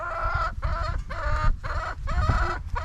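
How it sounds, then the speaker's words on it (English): Chickens squawk and cluck loudly and close by, in a near-continuous series of harsh, rising calls with brief gaps. "Stop squawking and go get some."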